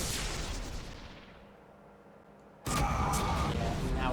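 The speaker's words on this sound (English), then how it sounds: "So he just detonated the asteroids to give himself some rooms to maneuver." Asteroids detonating in the space strategy game Sid Meier's Starships: a roaring blast that fades away over about two seconds, then a second loud explosion that cuts in abruptly and holds at full strength.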